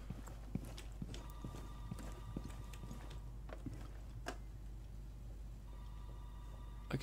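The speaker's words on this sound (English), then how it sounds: "I can hear someone running." Footsteps of someone running in the video game Rainbow Six Siege, a series of faint, sharp, irregular taps over a low steady hum, with brief tonal beeps in between, heard without talking.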